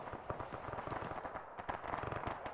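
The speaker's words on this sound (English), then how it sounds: "Okay, that was some impressive fire they just laid down." Dense sustained military gunfire in a military video game, rapid overlapping automatic bursts and sharp cracks rattling continuously at moderate distance.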